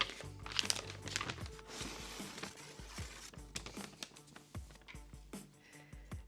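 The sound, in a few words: handling a crinkling paper bag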